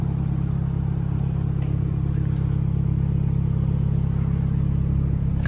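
Renault Megane IV RS Trophy 300 hp with EDC gearbox, engine running in race mode, a steady deep rumble held at an even level without revving, heard up close.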